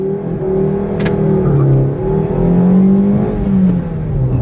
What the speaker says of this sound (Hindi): raving till 5000 RPM